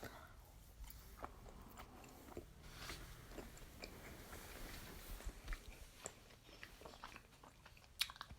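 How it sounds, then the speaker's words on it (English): Someone chews food close to the microphone, with soft, irregular biting and crunching sounds repeating over several seconds at low level. "My subscribers have to hear me chew."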